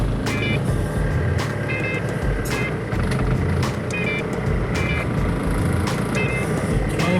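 Busy city road traffic with a continuous rumble of trucks, cars and motorbikes, punctuated by repeated short beeps and horn-like tones at a moderate distance.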